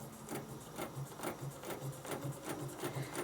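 A sewing machine stitches along a quilting template in a quick, even rhythm, its needle thumping about three times a second, close and steady, with no talk.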